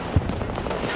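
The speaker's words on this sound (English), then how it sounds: "Grenade!" A single sharp grenade blast in Battlefield 2042, a short thump-like burst over background battle ambience.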